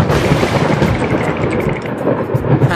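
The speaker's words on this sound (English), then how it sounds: "It's just thunder." Thunder follows a lightning strike outside, a loud, sustained rolling rumble that continues without pause and has no voices over it.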